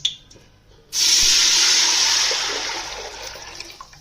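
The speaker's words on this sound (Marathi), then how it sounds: "आणि याच्यात आता 2 टोपं पाणी टाकायचे." Water pours steadily and loudly into a pot, a continuous rushing splash that starts abruptly and gradually eases off.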